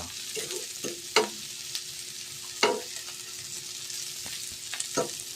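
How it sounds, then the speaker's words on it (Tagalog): White onion and garlic sizzle gently in olive oil while a utensil stirs and scrapes the pan, with a few distinct clacks over the soft, constant frying. "Haluan natin ang sibuyas na puti."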